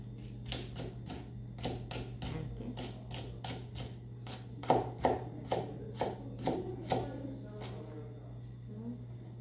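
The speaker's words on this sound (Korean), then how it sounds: "그다음에 얘도 가늘게 썰어 주시면 되죠" A knife slices vegetables thinly on a cutting board in a cooking class, making a quick, regular series of crisp taps close by that grow louder midway, with faint talk underneath.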